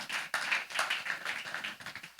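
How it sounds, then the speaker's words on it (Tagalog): Congregation in a church service applauding together, a steady patter of many hands clapping at moderate distance, continuous and fairly even without voices. "isang buhay at malakas na palakpak para sa ating Panginoon"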